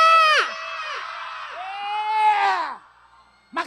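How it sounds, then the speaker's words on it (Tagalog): A comedy show audience whoops and shouts loudly in drawn-out, rising yells, voices blending into a crowd cry that fades before a fresh shout at the end. "Magpalakpakan po may kasamang sigawan na nagsasabing, pangit si Tekla!"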